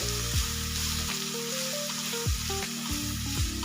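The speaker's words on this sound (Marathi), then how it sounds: "आपण आता मीडियम गॅसवरती एक दोन मिनटं छान असं परतून घेऊ" Onion tomato masala with salt frying in a pan over medium flame, a close steady sizzle with a few stirring scrapes and no voices.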